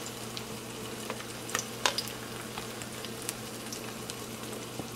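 A VeganEgg omelette fries softly in a pan on medium heat, a steady faint sizzle with a low hum and a few small pops and clicks, no talking.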